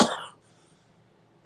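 A single harsh cough from a man, loud and close, followed by near silence and then the start of another cough at the very end.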